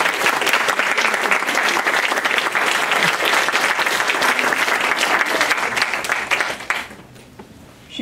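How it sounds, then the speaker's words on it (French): A conference audience claps loudly and continuously for several seconds, a thick wash of hands that then fades out abruptly into near quiet at the end. "Vous pouvez les applaudir et les remercier"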